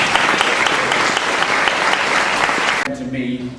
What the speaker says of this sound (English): Give him a warm welcome and round of applause